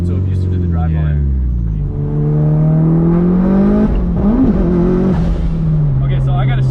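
A Mitsubishi Evo 5 launches hard with launch control and no-lift shifting, a loud close engine roar climbing in pitch, a quick dip at the shift, then pulling up again, with a voice talking over it.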